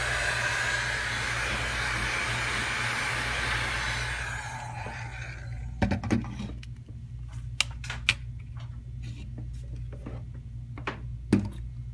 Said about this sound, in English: you actually have to heat up the backside a little bit with the heat gun